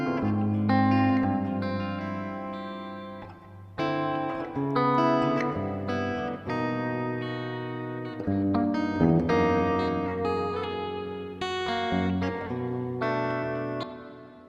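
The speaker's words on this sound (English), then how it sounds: "So now we should have some reverb action going on." A guitar played through a ZOIA effects pedal plays sustained chords and melodic notes with heavy reverb, each note ringing out and blending into a washy tail.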